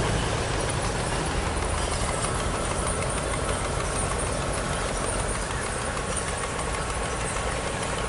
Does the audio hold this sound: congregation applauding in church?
no